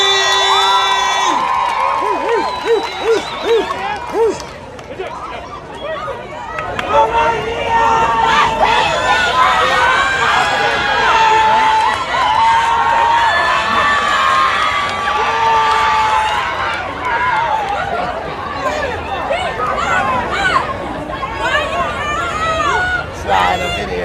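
A large outdoor crowd at a Juneteenth celebration in a Seattle park cheers and shouts for the Garfield High School cheer team, loud sustained whoops and screams with children's voices, music, and an announcer's voice over the top.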